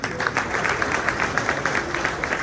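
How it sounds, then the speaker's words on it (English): Audience applause at a city state-of-the-city event for a local window and solar cleaning business owner, a dense steady patter of many hands clapping at moderate loudness. "Let's give her a round of applause."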